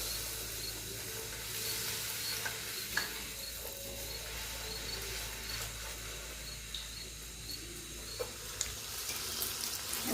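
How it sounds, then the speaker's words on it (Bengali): Luchi fry in hot oil with a soft, steady sizzle and occasional small pops and clicks, fairly quiet and without talk. "গরম গরম লুচি ভাজতে বসে গেলাম বন্ধুরা"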